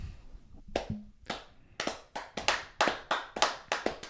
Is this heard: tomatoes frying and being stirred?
no